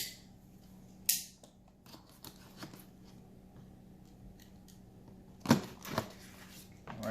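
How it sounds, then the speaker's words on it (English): A blade slicing through the small seal on a DJI Mavic Mini bundle box, a few quiet, sharp cuts and scrapes of cardboard and plastic up close in an otherwise hushed room. "It looks like there's a little seal down here, so I'll cut through that really quick here."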